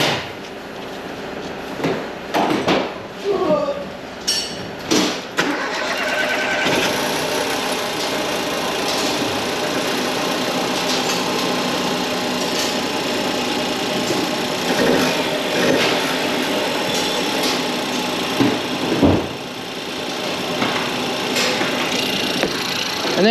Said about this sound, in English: let's get on the key and give it a big start